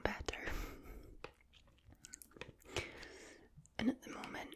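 Raw honeycomb being chewed close to the microphone in an ASMR setting, with wet, sticky smacking and clicking mouth sounds that come in irregular bursts, quiet and intimate, with soft breathy whispering between them.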